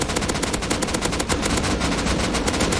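Dense, rapid gunfire from the survival game Rust, with a steady run of closely spaced automatic shots at high volume and no talk over it.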